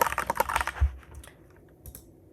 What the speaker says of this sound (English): And let's try typing something.